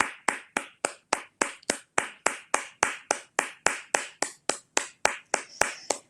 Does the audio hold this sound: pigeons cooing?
no